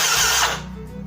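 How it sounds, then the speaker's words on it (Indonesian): Yamaha Mio J scooter fuel pump priming with the ignition switched on, a loud steady whirring buzz that drops off partway through to a lower hum, with no talk over it. "Jadi tanda bahwa si pompa bensin itu sedang memompa"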